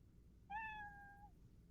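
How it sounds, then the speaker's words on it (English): A single clear cat meow from a Scratch game sounds once, short and tonal with a slight downward bend at the end, alone over a faint background hum. "not only do I get that meow sound"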